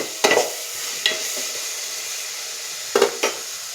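Onions softened in a pan for a Telugu fish curry, stirred with a few short scraping strokes over a soft steady sizzle, close by.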